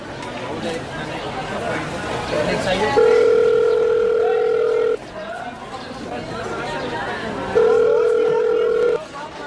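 A telephone call rings out through the handset as a steady tone repeating twice, each burst lasting about two seconds with a pause between, while people talk quietly in the background.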